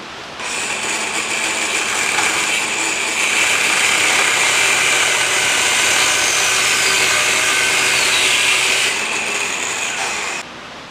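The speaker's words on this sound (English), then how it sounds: "I got my depth wheel on my grinder" An angle grinder fitted with a depth wheel cuts into aluminum during a transmission case thread repair, giving a loud, steady, high-pitched whine that holds for about ten seconds before cutting off.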